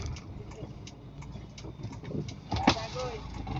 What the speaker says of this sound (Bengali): এখন আমি ডান সাইডে যাব ড্রাইভিংটা এনজয় করেন দেখেন আমি কিভাবে ড্রাইভ করি